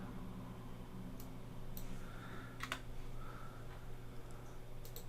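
Keyboard shortcuts tapped on a computer keyboard, a few light scattered clicks over a steady low background hum, fairly faint and unhurried.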